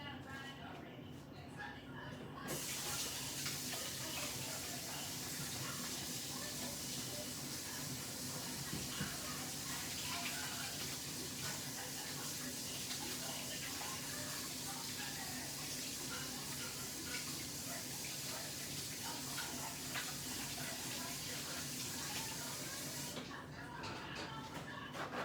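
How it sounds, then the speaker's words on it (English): Tap water running steadily into a kitchen sink as hands are rinsed, a continuous close hiss and splash lasting about twenty seconds, with talk over it. "I'm gonna rinse my hands"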